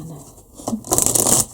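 Tarot cards being riffled and shuffled close by, a soft rustle building into a rapid fluttering burst for about half a second before stopping.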